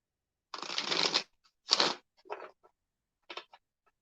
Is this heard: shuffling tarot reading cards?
yes